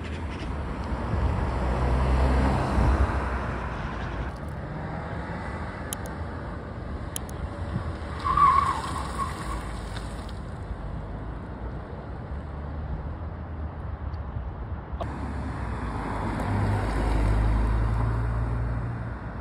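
Cars, including an Alfa Romeo Giulia, passing slowly past a film set: a low engine hum and tyre rumble that swells and fades as vehicles go by, with wind noise and a brief clatter midway.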